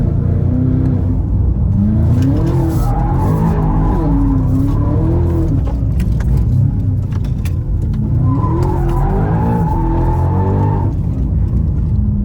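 Two BMW M5 G90 sedans drift along tight roads, engines revving hard and rising and falling in pitch with long tire squeals and skids, loud and close throughout with no talk.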